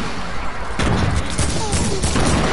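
Bombs exploding in a video game: a burst of loud, dense blasts and crashes that erupts suddenly after a brief lead-in and keeps going to the end, close and heavy.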